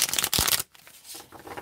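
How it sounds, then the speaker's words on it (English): A deck of tarot cards is shuffled by hand in a short, crisp riffle of rapid flutters that ends abruptly, followed by a few soft card taps, close and alone. "So I'm going to go ahead and shuffle these cards."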